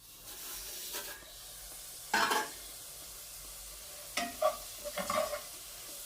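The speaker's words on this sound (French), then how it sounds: "غادي نقليه هاد خيزو من 5 حتى ل 10 دقائق يطيب معايا" Carrots frying gently in a pan over low heat with no water added, a faint continuous sizzle broken by a few brief scraping stirs, close up, no talk.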